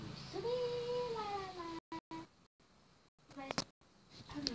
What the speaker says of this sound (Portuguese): Chega um gatinho na frente.